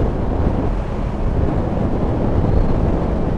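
Loud, steady rush of wind buffeting the microphone on a moving Honda CB650R motorcycle, a constant low roar with no pauses and no voices.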